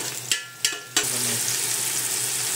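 Tomatoes hit a pan of sautéing garlic, onion and ginger, three quick clatters of pieces dropping in, then a loud continuous sizzle that carries on steadily.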